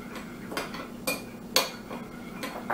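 A utensil mixing tofu meatloaf ingredients with canned tomato sauce and sugar in a bowl, a few sharp scraping clinks knocking at irregular intervals, close and fairly quiet.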